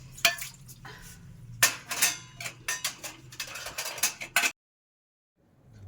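Dishes, steel pots and utensils get washed in a home kitchen: rapid clinks, scrapes and clattering bursts up close, over a low running background hum, which stops abruptly near the end.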